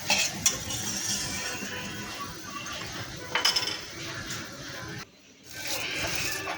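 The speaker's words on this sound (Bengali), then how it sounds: "পেঁয়াজ ভেজে নিব" Onions sizzle and fry in a pan while a utensil scrapes and clinks against the metal as they are stirred, close and moderately loud, with a brief quiet gap before the frying resumes.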